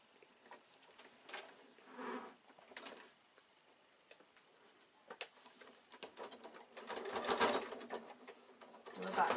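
A sewing machine stitches through a quilted evening bag, across straps, front, lining and wadding, in a faint, uneven whir that strains and builds toward the end, with soft speech-like sounds in the background.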